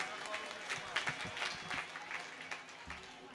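Applause at a Gujarati religious mahotsav celebration for donors' names, a crowd clapping steadily across the hall and running under a voice on the speaker system.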